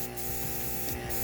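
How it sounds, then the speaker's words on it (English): A clear water mist hisses through an airbrush used for cake decorating in two short, close bursts over a steady background hum, with no talk. "I spray a water inside and then I test."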